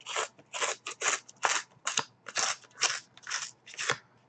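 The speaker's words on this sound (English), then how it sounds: "I do destroy these cards completely." Sports trading cards, hockey cards from a Panini Zenith box, are torn apart in a quick series of about ten sharp ripping bursts, each loud and close with brief pauses between, and no voices over them.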